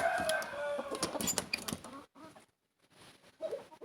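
Egg-laying hens and roosters in a poultry yard, with scattered clucks and squawks layered over a busy background, a brief lull near the middle, then softer clucking resuming; no one talks.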